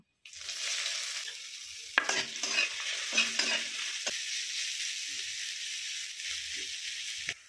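Chopped onions hit hot oil with a dried red chilli and bay leaf for an egg curry, bursting into a loud, steady sizzle with a few sharp spatula scrapes and knocks early on, no voices.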